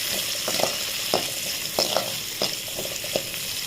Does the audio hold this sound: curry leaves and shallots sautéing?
yes